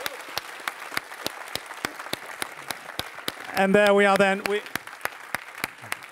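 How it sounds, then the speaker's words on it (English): An audience at an award ceremony for a green challenge competition claps for the finalists, steady sharp hand claps throughout while someone speaks briefly over them. "A warm applause for them."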